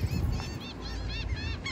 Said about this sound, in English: Y'all hear the seagulls.